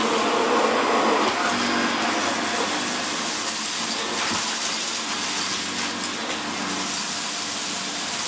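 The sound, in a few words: Vax Mach Air Reach U90-MA-R cylinder vacuum cleaner running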